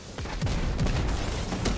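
Hand cannon fire in a Destiny 2 PvP match: a burst of rapid, overlapping gunshots amid dense battle noise, loud and close throughout, with no speech.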